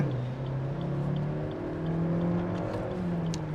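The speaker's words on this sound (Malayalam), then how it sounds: "സെക്കൻഡ് ഗിയറിൽ നല്ല RPM, നമ്മൾ ഏകദേശം 5000 RPM-ലേക്ക് കയറ്റി വന്നു" A Maruti Suzuki Ertiga 2022 engine accelerates in second gear and revs up toward about 5000 RPM, giving a steady, rising drone that stays loud and close throughout, with no talking.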